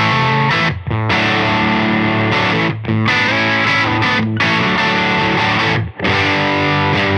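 Electric guitar runs through a Caroline Wave Cannon Zero overdrive with the gain raised, giving thick, saturated distorted chords that sustain loudly with a few brief breaks between strums.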